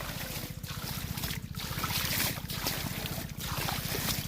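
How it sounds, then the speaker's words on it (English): Plants being watered by hand, a steady splashing stream of water with rhythmic pulsing and brief pauses, fairly close and continuous. "I have to forcibly water them, just like this"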